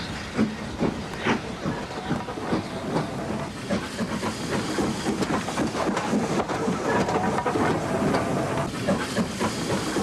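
A sound-equipped model railway steam locomotive hauling passenger coaches with a luggage van pulls away from a station, giving steady steam hiss and chuffing over rolling clickety-clack that builds slightly as it departs, close and continuous without talk.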